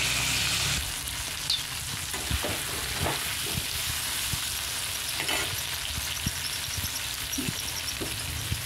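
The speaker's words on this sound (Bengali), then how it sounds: "দিয়ে দিচ্ছি সামান্য পরিমাণ মটরশুঁটি। সেটা আমি কিছুক্ষণ ভেজে নেব।" Green peas frying in a pan give a steady crackling sizzle, heard close, with scattered pops and light stirring knocks across the whole stretch and no speech.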